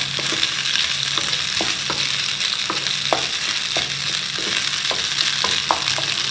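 Boiled keema and macaroni are stirred and fried together in a frying pan, a continuous sizzle with regular scraping strokes of a spoon repeating every half second or so.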